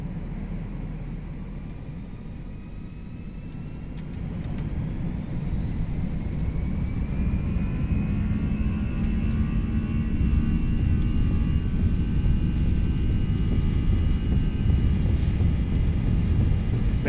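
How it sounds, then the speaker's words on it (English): Airbus jet engines spool up for a takeoff roll on runway 26R at Santa Ana (KSNA), a steady rising roar and whine that swells louder after a few seconds and holds strong, heard close from the cockpit with no talk. "Here we go, spool them up 50, guys. Enjoy the takeoff."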